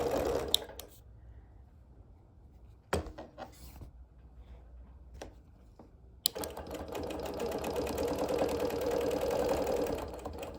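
A sewing machine stitches background quilting around appliqué and embroidery, starting after a few clicks and short stops and then running continuously and close for the last several seconds.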